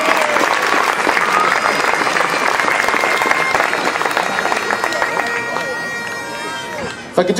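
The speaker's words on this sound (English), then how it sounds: "big round of applause to welcome these young dancers onto the square." An outdoor crowd on a town square applauds to welcome young Scottish dancers, sustained loud clapping that gradually thins toward the end, with voices faintly underneath.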